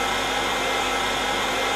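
A Zubr FT-P1600 heat gun running on its second setting blows a loud, constant roar of air with no change in level and no voices.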